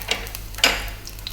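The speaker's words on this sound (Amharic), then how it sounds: "እሳታችንን ከፍ አድርገን ነው የምንጠብሰው።" Garlic fries in about three tablespoons of oil in a pan over high heat, giving a brief, close sizzle with a few sharp crackling pops.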